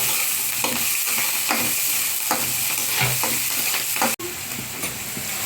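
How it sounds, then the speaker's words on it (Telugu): Onions frying in a pan for a fish dish give a loud, constant sizzle with periodic stirring scrapes and spoon taps, and one abrupt cut near the end. "మనం నెక్స్ట్ ఆనియన్స్ వేసేసుకోవాలి బాగా ఫ్రై కావాలి"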